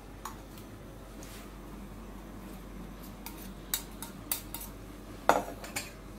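Spaghetti transferred onto a plate with utensils, a few sharp clinks and taps of cutlery against dishware that grow more frequent toward the end over a quiet background, no talking.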